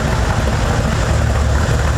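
A Chevy Impala's Holley-carbureted 350 V8, long sitting, idles steadily while warming up after a first start, a constant low rumble with no talk over it.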